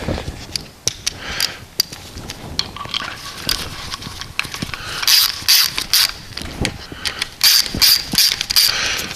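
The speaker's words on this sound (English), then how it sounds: "if you use a small handled ratchet and just nip up with one hand" A small handled ratchet nips up the fuel pump bolts on a B18/B20 engine: a dense run of rapid close clicking, in bursts with short pauses between strokes, fairly loud and with no voice.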